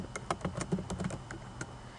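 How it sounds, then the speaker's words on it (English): A steady run of light keystrokes on a computer keyboard, close and fairly quiet, about a dozen quick taps in uneven rhythm with no voices. "So we'll type our question into this new note box."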